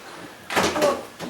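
A door swings open or shut indoors with a sudden bump and rattling thuds, followed by a second smaller knock a moment later, fairly close and loud against a quiet room.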